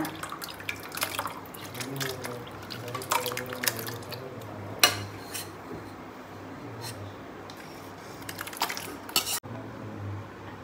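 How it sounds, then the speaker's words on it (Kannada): Crushed watermelon pours and drips into a sharbat in irregular splashes, with a few soft clinks of a glass or utensil nearby. "ಇನ್ನು ನೆಕ್ಸ್ಟ್ ನಮ್ಮದು ಕ್ರಶ್ಡ್ ವಾಟರ್ ಮೆಲನ್ ಇರುತ್ತೆ, ಅದನ್ನು ಆ್ಯಡ್ ಮಾಡ್ಕೊಳ್ಳೋಣ"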